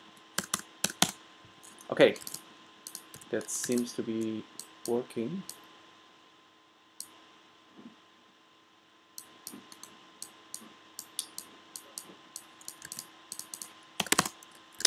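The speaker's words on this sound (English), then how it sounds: "I need to type in data" Computer keyboard typing in a quiet room, rapid clustered key clicks in bursts with pauses, loud and close, with someone briefly speaking between them.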